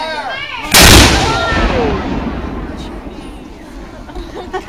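A single loud, sharp report from a historical flintlock musket at a living history museum, ringing out in a long decaying echo over open-air crowd murmur.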